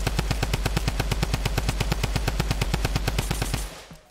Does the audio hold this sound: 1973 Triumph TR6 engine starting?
no